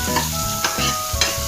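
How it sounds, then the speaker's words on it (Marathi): Chopped onion and tomato fry and get stirred in a pan for a masala omelette, with a continuous close sizzle broken by a few scraping stirs. "जेणेकरून हा चांगला कांदा आणि हे टमाटा थोडा भाजला गेला पाहिजे"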